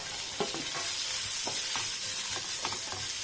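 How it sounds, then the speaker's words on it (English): Vegetables fry in ghee in a pan with a steady, bright sizzle, and a utensil stirs them with soft scraping clicks now and then. "Add 2 teaspoons of ghee. Add the vegetables here."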